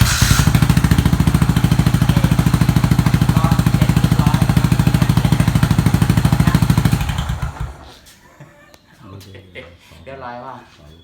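A Yamaha SR400 FI single-cylinder motorcycle idling loud and close with a fast, even thumping pulse for about seven seconds before it cuts off, leaving quiet background and a voice speaking.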